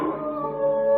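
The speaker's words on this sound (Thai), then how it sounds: "เสียงหมาก็หอนกระชั้นเข้าทุกที" A dog howls in a long, wavering, mournful tone that rises slightly toward the end, used as an eerie sound effect in a Thai ghost audio drama, with no talking over it.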